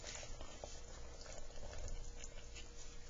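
Plaster of paris being stirred with water by hand, a steady wet churning and sloshing that runs without pause at moderate loudness.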